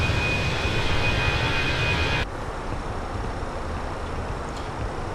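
An F-35 jet roars overhead at the Avalon Air Show in Microsoft Flight Simulator, a steady dense engine rumble that abruptly drops to a quieter, duller drone partway through, with no voices.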